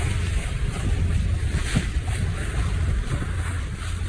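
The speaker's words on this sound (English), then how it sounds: "the noise of the water and the engine are going to be a bit loud if your volume is up" A trawler at sea, its steady engine drone mixed with rushing water and wind buffeting, continuous and fairly loud throughout.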